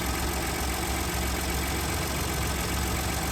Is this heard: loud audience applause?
no